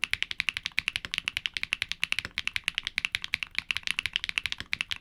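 Typing on Keygeek mechanical keyboard switches: a rapid, steady run of crisp clacking keystrokes, close and clear, with no voices.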